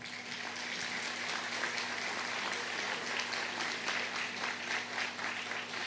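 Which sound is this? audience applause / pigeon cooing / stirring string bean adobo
audience applause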